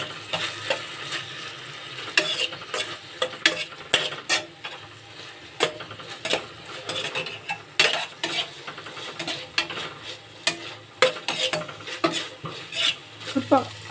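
Chopped tomatoes cooking for pasta get stirred in a pan, a spoon scraping and clinking against metal in irregular bursts over a low, steady sizzle, close and clear with no talking.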